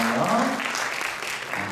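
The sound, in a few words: church congregation applauding to welcome newcomers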